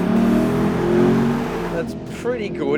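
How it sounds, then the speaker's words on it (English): A Lexus GS F V8 revs strongly and holds a loud, rich growl, then drops away as a voice speaks briefly near the end. "And what about that V8 sound?"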